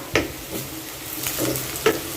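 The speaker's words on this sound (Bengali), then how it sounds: "তো এটা ভাজা হোক পেঁয়াজ" Onion fries in a pan with a soft, steady sizzle close by. A few louder clatters from stirring come at irregular moments, and there is no talk.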